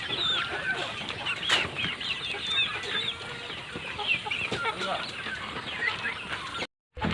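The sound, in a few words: chicks clucking while eating grass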